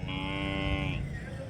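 Calves lowing at a cattle market in Chintamani, one sustained, loud moo close by with a steady tone that tapers off at the end.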